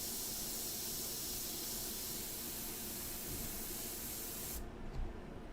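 An airbrush spraying India ink onto a portrait, a steady close hiss of air and ink that runs unbroken and stops abruptly near the end, with no talk.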